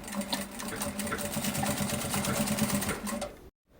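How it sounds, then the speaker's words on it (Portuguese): A sewing machine runs a straight seam along the zipper of a fabric pouch, a steady, rapid, close stitching buzz that keeps going for about three and a half seconds before cutting off to silence. "eu vou passar uma costurinha aqui nessa parte reta, sem as curvas, só pra estabilizar"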